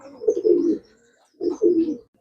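Two bursts of soft, low cooing from pigeons of a white breed, heard close by with a short quiet gap between the calls and no talking.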